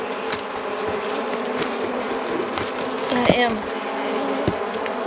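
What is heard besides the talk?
honey bees buzzing around hive frames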